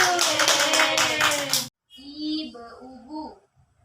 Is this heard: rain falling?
no